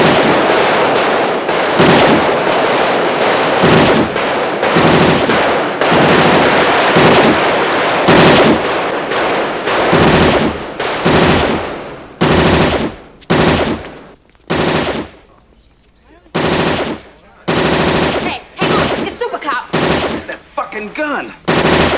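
Rapid bursts of loud, close gunfire from an Auto 9 pistol, the RoboCop movie gun, come in dense strings and clustered volleys with brief silent gaps between them.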